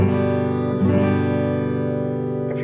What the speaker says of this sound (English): hit the string, or all the strings, doesn't matter, and it sounds like this.